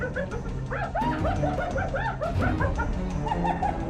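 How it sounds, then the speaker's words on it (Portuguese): A pack of wild dogs yip, chatter and bark excitedly together in a dense, overlapping chorus, with high twittering calls over lower barks. "A matilha de cães selvagens late alto, apertando sua formação defensiva."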